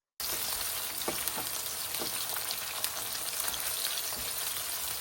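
Food frying in a pan while a Ghanaian garri jollof and egg stew are cooked, a steady close sizzle and crackle with small spits and pops, running unbroken and alone without voices.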